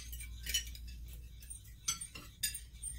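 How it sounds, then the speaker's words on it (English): Knife and fork cutting food on a plate at a formal dining table, a few distinct metallic clinks and scrapes against the china spaced over a low steady hum, no talking. "And we're cutting."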